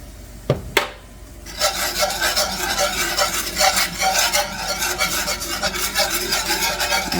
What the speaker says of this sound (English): And whisk, whisk, whisk.